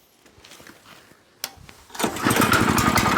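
A walk-behind tractor's small engine starts: a few quiet pulls and clicks, a sharp catch, then the motor fires and settles into a loud, steady running drone close by.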